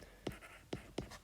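Pen on paper writing out maths working, three short scratchy strokes spaced apart, quiet and close with no talk.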